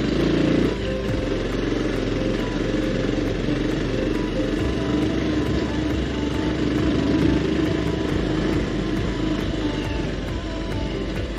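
A 220 cc motorcycle ridden over a rough, bumpy road makes a loud, near, continuous engine drone that holds steady without a break.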